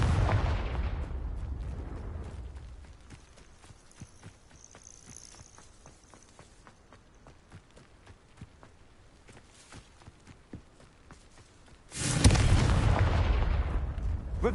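A Confringo blasting spell explodes in the Hogwarts Legacy video game: a loud burst fades over a few seconds into quiet footstep-like taps, then a second heavy blast erupts near the end.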